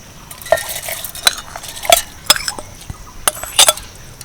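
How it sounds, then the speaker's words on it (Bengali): Soaked rice spooned into a large mixer grinder jar, heard as scattered scraping and sharp clinks of a spoon against the jar, close and fairly loud, in irregular bursts without speech. "মিক্সি জারে বড় জারটা নিয়ে নিয়েছি এর মধ্যে প্রথমে চালটা দিয়ে দিচ্ছি"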